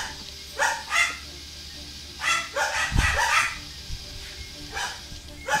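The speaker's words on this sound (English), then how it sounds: "Goddamn dogs." Several dogs bark in short, repeated bursts at mid distance, with clusters of yips separated by pauses and a low thump partway through; no talking over the barking.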